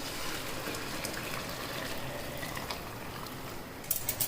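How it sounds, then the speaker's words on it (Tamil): Hot water is poured into a pressure cooker holding rice and dal, a steady close gushing splash that runs for several seconds, then ends in a few small clinks. "இப்போ இந்த தண்ணி எடுத்து நம்ம இதில் சேர்த்துக்குவோம்."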